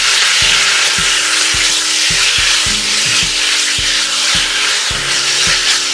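Chicken sizzles and fries steadily in a hot pan with broccoli nearby, a loud continuous crackle with faint rhythmic scraping or tapping underneath, no voices.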